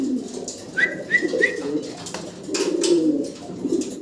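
Fancy pigeons at a breeder's loft, including Old German Owl birds, cooing in short repeated throaty calls, close and moderately loud, with a few soft rustles and faint background noise between the coos.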